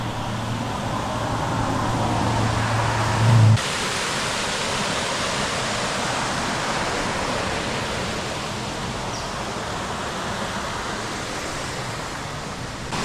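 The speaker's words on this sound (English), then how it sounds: "this creek, I think it's pronounced Moira Springs, and that water flowing down" Creek water at Moira Springs on Stradbroke Island rushes and flows in a continuous, steady broadband wash, close and fairly loud, with no voices over it.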